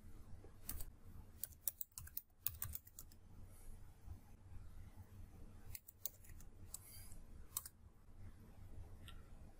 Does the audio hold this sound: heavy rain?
no